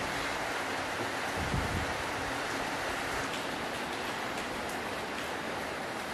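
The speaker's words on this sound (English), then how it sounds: "when I arrived there, it was raining." Steady broadband hiss of rain falling outdoors, continuous and even, with a low rumble of wind around the microphone.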